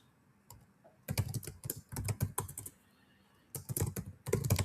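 Rapid bursts of computer keyboard typing, entering a number range into business software, come in clustered keystroke runs separated by short pauses, close and fairly crisp with no talking.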